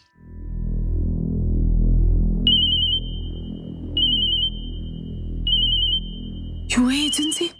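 A telephone rings in three even bursts of a steady electronic tone, fairly close, over a low background bed, before a brief burst of other sound at the end.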